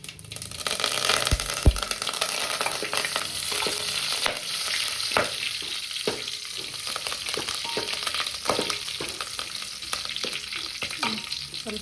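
Dried red chillies and curry leaves crackle and sizzle loudly in hot tempering oil for a South Indian festival meal, with a dense steady frying hiss and occasional sharp pops, alone without talk.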